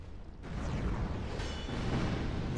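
Explosions in the video game Dark Souls II during a boss fight against the Covetous Demon: a sudden loud burst gives way to a sustained, roaring rumble that stays heavy to the end.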